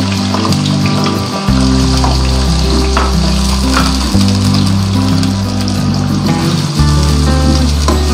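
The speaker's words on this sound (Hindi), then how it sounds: "ये देखिए ऑयल गर्म हो गया, अब इसमें डालूंगी मैं कटे हुए प्याज" Chopped onions go into hot oil and fry with a loud, close, steady crackling sizzle, with occasional stirring, for a Bhuna chicken masala. No one speaks.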